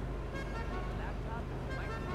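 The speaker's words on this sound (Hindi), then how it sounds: "ये मेरी गाड़ी का हॉर्न कौन बजा रहा है" Car horn tooting in GTA 5 traffic, a muffled honk blending into steady road noise and engine rumble, moderately faint, with someone talking over it.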